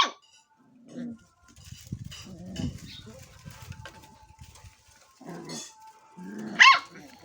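A lively young puppy on a rural farm gives a few short, sharp barks and yips in scattered bursts, moderately close, with quiet pauses and faint background sounds between them.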